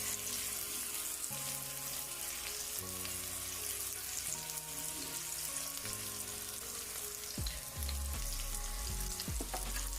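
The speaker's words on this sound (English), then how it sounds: "while this side gets a little bit more fry up" A jerk salmon burger patty frying in a pan, a faint, steady sizzle that runs unbroken under a bed of background music.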